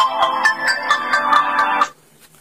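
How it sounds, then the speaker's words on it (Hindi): A Vgotel S9 mobile phone plays a loud electronic ringtone of quick rhythmic pulsed notes, close by and alone, which cuts off near the end and leaves faint quiet. "अभी हम रिंगटोन इसके चेक करते हैं"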